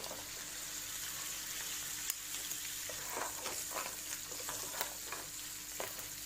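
Lobster frying in a pan, a soft continuous sizzle with occasional faint stirring clicks and scrapes, quiet and close, with no talk.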